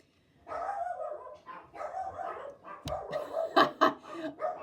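Several dogs bark in sharp, irregular bursts from close by, the loudest yaps clustering near the end over a busy background.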